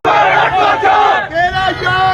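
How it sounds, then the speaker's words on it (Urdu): Crowd loudly chanting slogans in support of PTI and Imran Khan at a protest in Pakistan, voices rising together in rhythmic bursts with brief dips between phrases. "عثمان ڈار اور ان کی والدہ ریحانہ ڈار نے پی ٹی آئی کے حق میں نعرے لگائے"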